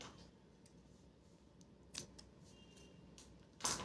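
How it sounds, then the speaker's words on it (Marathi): Scissors snip leftover thread while making a single-strand mangalsutra, two quiet crisp cuts a couple of seconds apart over faint room hiss. "आणि उरलेला धागा आपल्याला कापून टाकायचा आहे."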